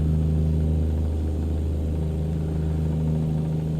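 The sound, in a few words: Peterbilt 389 truck engine driving, video game American Truck Simulator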